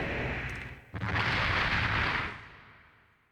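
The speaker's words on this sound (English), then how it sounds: "Explosion." A heavy explosion in the Armored Core mech video game: a dull rumble builds, then a sudden loud blast roars for over a second before tailing off into fading debris noise.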